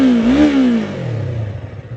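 A motorcycle engine revs as the throttle is twisted, a loud close rising and falling roar that settles into a lower rumbling idle, with no talk over it.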